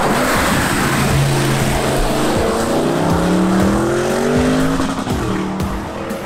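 A Porsche Cayenne GTS with a 460 hp V8 accelerates on an evening street near the Porsche Museum. The loud engine roar climbs through rising, swelling tones, close and continuous.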